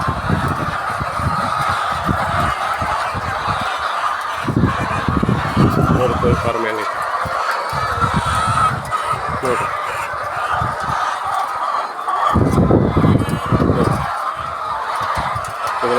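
A dense flock of hens at an egg-laying poultry farm, each bird about two to three kilograms, cluck and squawk continuously, with louder bursts of cackling rising above the steady crowd noise close by.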